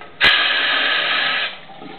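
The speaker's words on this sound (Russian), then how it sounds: "здесь шум воды, как" Water running in a bathroom at the Riviera Blue hotel in Sunny Beach, Bulgaria: a sharp onset, then a loud, steady rushing hiss for over a second before it drops away to a quieter background.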